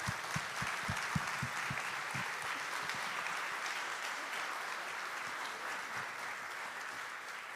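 Audience applause at a conference session, a dense sustained patter of many hands clapping steadily throughout, with no voices over it.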